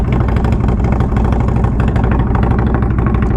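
A 2021 Indian Scout Bobber motorcycle idles in neutral, a loud, steady, close engine rumble with an even rapid pulse and no rise in revs.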